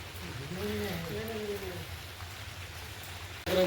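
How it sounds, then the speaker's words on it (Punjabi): Continuous hiss of rain pattering down, with a murmured voice briefly at the start and a sharper burst of noise at the end. "ਲਓ ਜੀ ਮੀਂਹ ਦੁਬਾਰੇ ਫੇਰ ਆ ਗਿਆ ਵੱਧ ਗਿਆ ਸੀ ਹੁਣ ਮੀਂਹ"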